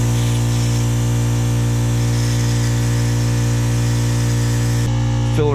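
An air-powered vacuum brake bleeder working on a Harley-Davidson Iron brake system gives a loud, steady hiss and hum that holds unchanged, then shifts briefly near the end.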